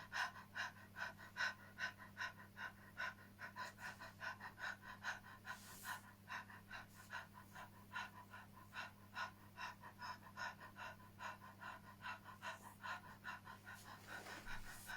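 Rapid rhythmic panting breaths during a voice breathing exercise, steady quick pulses of breath repeated throughout at close range with no talking.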